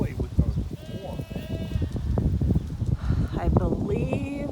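Awassi-bred ewes bleat on a farm, several wavering calls spread across the clip over rustling and shuffling movement, while people talk nearby.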